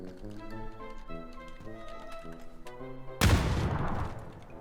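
A grenade goes off inside a building in PUBG, a sudden loud blast arriving after a few seconds of quiet music-like tones and rattling, then a noisy decaying rumble.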